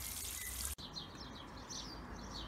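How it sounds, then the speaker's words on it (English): Rainwater running into a gravel driveway: a soft, steady trickle and wash of water with light bird chirps above it, broken by one brief cut early on. "look, we've chosen gravel, and naturally, all the water's just running in"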